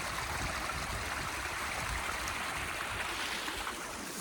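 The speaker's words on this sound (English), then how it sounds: "you really can see that nice little waterfall down there" Steady broadband rush of water from a small waterfall below a road in a forest, continuous and fairly even throughout, heard from some distance with no talking.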